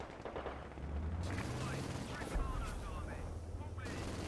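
Gunfire in a Company of Heroes 2 battle, a dense, continuous patter of shots and rumbling artillery-like bursts mixed with other battle noise and low engine drone.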